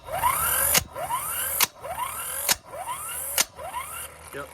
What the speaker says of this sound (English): All right, impact wrench is back on. See if these are tight.